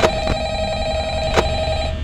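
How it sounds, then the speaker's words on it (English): A telephone rings in the horror game Five Nights at Freddy's, sharp repeated bell rings over a steady electronic hum, loud and close. "phone is ringing already"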